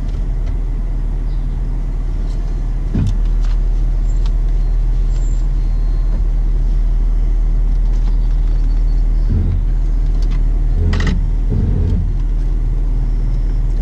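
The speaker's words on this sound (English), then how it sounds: "That sounds funny, huh?" Newly fitted drilled and slotted brakes on an Audi convertible, heard from inside the moving car over low engine and road rumble, with a few brief squeaks and clunks standing out near the end.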